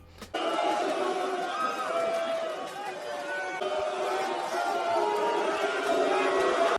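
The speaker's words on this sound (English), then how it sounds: "He gets booed." Arena crowd at an AEW Dynamite wrestling show, a sustained loud wash of many voices booing and jeering that fills the space continuously, with scattered shouts rising out of the roar.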